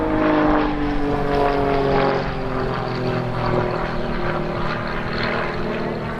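A Grob Tutor propeller plane performs an aerobatic roll at the Old Buckenham Airshow, its engine a loud, steady droning buzz with slight wavering in pitch as it manoeuvres.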